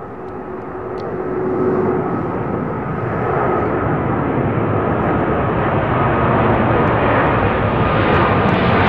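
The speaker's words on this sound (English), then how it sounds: "Evening shot of an A3, easy, lifting off out of London Heathrow." An Airbus A380 lifts off from London Heathrow on an evening departure, a broad roaring rumble of jet engines that swells and holds steady, loud and sustained.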